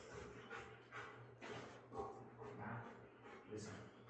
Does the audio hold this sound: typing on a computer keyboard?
no